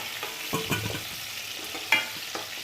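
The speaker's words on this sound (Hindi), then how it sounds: "फिर इसके बाद में हम करेंगे प्याज को भी फ्राई" Onions fry in oil over high gas, giving a steady sizzle with scraping stirs and a few sharper pops, close by and with no talking.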